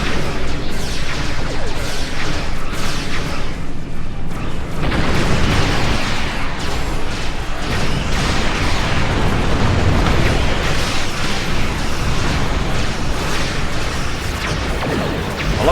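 Continuous heavy barrage of booming spaceship cannon blasts and explosions in Star Trek Online, dense and loud throughout with no pauses or talk.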